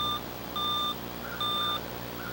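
Three electronic beeps, each lasting about a third of a second, sound evenly spaced and fairly loud as buttons are pressed on a home phone, with a low steady hum underneath.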